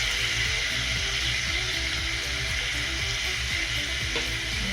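Grated coconut and dry copra fry steadily in a pan for sweet pongal, a loud, continuous sizzle with faint stirring scrapes throughout and no talking.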